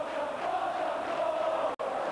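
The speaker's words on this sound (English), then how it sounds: "it must be some consolation to hear the home crowd chanting his name" Home crowd at an English football match in 1988–89 chanting a player's name, a sustained, roaring wall of many voices at a distance, steady throughout with one brief cut near the end.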